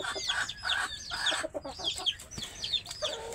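A flock of native desi chickens clucks and calls nearby in a busy, overlapping chorus of short, sharp cackles, with no voices heard.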